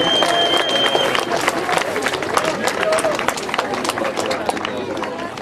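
Crowd applause at a 2006 strongman competition in Banovce as the home competitor gets ready to push a car, dense steady clapping mixed with cheering and babble, with an announcer talking over it.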